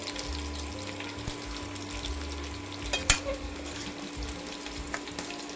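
Avial, a Kerala mixed-vegetable dish, being stirred in a pan: a steady low sizzle with soft scraping and shuffling of the thick mixture, plus a brief sharper clink partway through.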